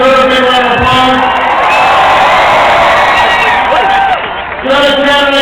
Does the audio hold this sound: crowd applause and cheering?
yes